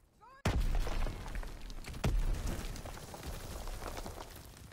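A grenade in Call of Duty WWII detonates with a sudden sharp blast after a brief quiet moment, followed by a second heavy boom and rumbling battle noise that slowly fades.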